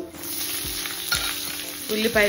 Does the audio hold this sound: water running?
no